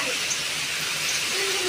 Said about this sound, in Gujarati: વરસાદ આવે